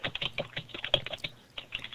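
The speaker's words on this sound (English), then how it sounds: "No typing, Lewis." Rapid, irregular clicking of keys on a computer keyboard during a live online broadcast, fairly close and moderately loud, with no voices over it.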